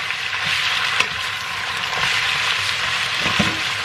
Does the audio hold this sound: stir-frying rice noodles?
yes